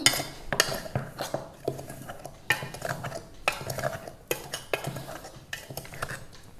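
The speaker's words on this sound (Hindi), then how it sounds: "इसको अच्छी तरह से मिला देंगे।" A spoon stirs a spice powder blend with Kashmiri chilli and black salt in a bowl, giving a rapid series of close scraping clinks and taps in uneven rhythm, with no voices.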